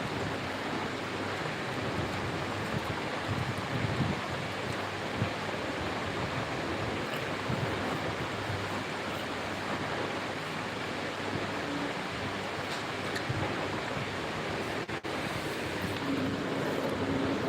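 Wind blowing steadily outdoors, a constant broadband rush that holds evenly throughout with no pauses.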